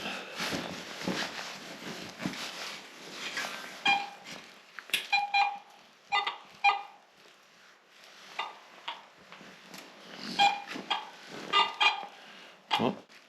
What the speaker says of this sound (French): Oh, ça a arrêté de biper.